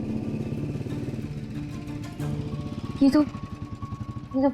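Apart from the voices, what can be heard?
motorcycle engine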